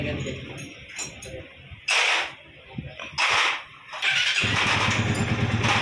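A Bajaj NS150 motorcycle, just back from a general overhaul with a new connecting rod, is cranked in short bursts before the engine catches and runs steadily, loud and close by.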